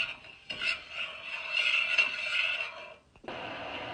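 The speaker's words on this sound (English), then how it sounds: "Now we're going to stir this all together," A spoon stirs apple cider juice and sugar in a cooking pot, a continuous close scraping swirl with a brief pause before it resumes, alone without talk.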